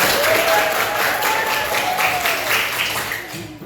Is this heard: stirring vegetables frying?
no